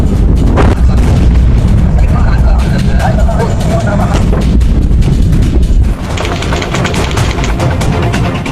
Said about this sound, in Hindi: दुनिया दहलाने वाला ब्लास्ट खाड़ी मुल्क में हुआ है